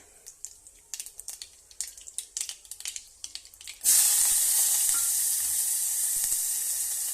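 Curry leaves and onion frying in a pan for brinjal sambar: a run of quick crackling spits, then a sudden loud, steady sizzle as fresh ingredients hit the hot oil, continuing close and strong to the end.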